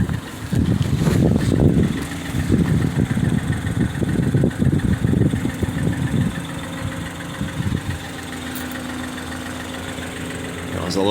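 A 2013 Ford Escape with dual exhaust idles up close, a steady low engine rumble with a rough, pulsing texture, partly broken by someone speaking over it before it settles into an even drone.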